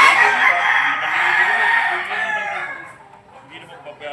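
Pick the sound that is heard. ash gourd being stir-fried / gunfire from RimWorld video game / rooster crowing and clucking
rooster crowing and clucking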